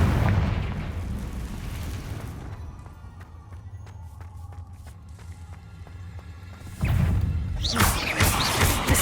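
A Confringo fire spell blasts in Hogwarts Legacy with a heavy booming explosion, then quieter crackles and debris fall away before another loud burst of impact noise erupts near the end.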